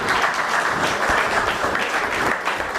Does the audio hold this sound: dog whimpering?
no